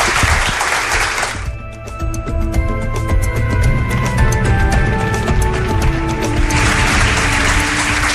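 A studio audience on a radio broadcast in the Canary Islands claps for a departing guest, a broad wash of applause at the start and end with music playing through the middle.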